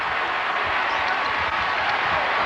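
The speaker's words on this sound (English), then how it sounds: "this crowd roars after that moment," A packed arena crowd at a Duke versus North Carolina college basketball game keeps up a loud, steady roar and cheering, with no pauses.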